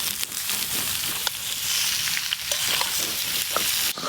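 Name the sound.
frying potatoes and boiled young jackfruit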